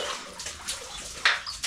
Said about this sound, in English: So we're gonna go draw water from that point.